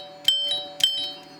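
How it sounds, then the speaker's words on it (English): A household doorbell rings twice, evenly spaced, with bright, clear bell-like strikes. A low steady hum sits underneath. "Cue doorbell."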